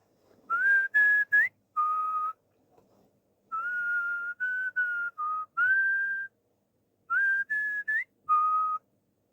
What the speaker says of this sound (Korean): 그 휘파람으로 시작하는